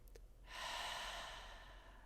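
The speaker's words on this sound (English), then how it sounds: "Take a deep breath in and exhale" A slow, deep exhale follows a faint intake, a soft, airy breath close to the ear, rising and then gently tapering off in a quiet room.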